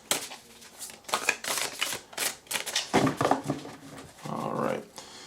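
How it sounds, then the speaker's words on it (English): Star Tarot cards being shuffled by hand, a run of crisp riffling and flicking bursts repeating close up, with a shuffling pause and a brief voiced sound near the end. "I like to shuffle, shuffle, shuffle."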